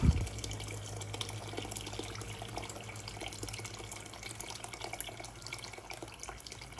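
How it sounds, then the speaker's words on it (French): Water running from a tap into a cooking pot (cocotte) to cover the ingredients, a steady continuous pour heard close up with no talk. "Et je vais venir recouvrir d'eau."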